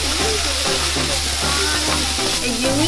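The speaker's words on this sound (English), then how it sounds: "So put a little bit of soy sauce." Soy sauce hisses in a hot pan with caramelizing onion for kimchi fried rice, a loud steady sizzle running the whole time with faint bumps of stirring and a soft voice in the background.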